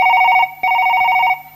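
A telephone rings back on a call placed to a hospital: two loud, close trilling ring bursts separated by a short gap, with no talk.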